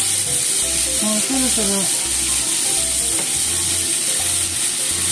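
New potatoes with garlic in olive oil stir-fry over medium heat, giving a steady, close sizzle throughout, with a person speaking briefly over it.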